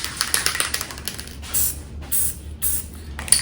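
Spray gun applying coats of paint onto a part in a workshop, several short hissing bursts of a second or so each, close and fairly loud, following a run of quick clicking taps.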